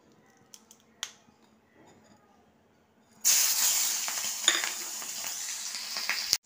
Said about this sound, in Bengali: এবার এই তেলেতে আমি দুটো কাঁচা লঙ্কা, একটা টমেটো আর একটু কালো জিরে ফোড়ন দেবো।